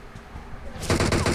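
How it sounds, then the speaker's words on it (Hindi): Enemy gunfire in PUBG Mobile, coming from a house by the sea. After a quiet start, a loud, close burst of rapid automatic shots breaks in and runs to the end. "जो बीच वाला सी हाउस है उसमें से हमें गोलियाँ पड़ती हैं टीपी की।"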